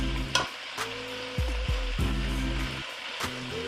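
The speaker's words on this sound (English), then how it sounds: "We're just gonna stir them up." Collard greens sizzle steadily in a hot pan while being stirred, with loud continuous frying hiss broken by several brisk scraping and tossing bursts, close up with no talking.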